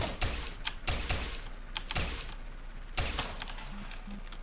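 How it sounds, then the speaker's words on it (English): Nail gun firing in the top-down shooter Teleglitch, a sharp rapid series of clicky percussive shots in uneven bursts. "Got a use for the nail gun now"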